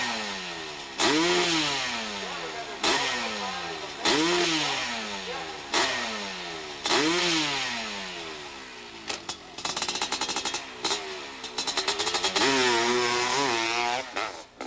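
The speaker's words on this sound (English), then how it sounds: "Also on a Honda-powered 2-stroke machine." Honda-powered two-stroke hillclimb motorcycle at an AMA Pro Hillclimb event in Muskegon, screaming through five or six rising rev bursts with gear changes, then bouncing on and off the throttle in rapid stuttering blips as it charges uphill.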